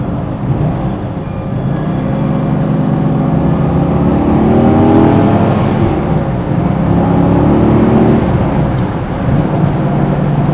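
A 1969 Chevrolet Corvette L88 with a big-block V8 and old tires roars loudly from inside the cabin as it accelerates, the deep engine note rising and falling through the gears with heavy road rumble.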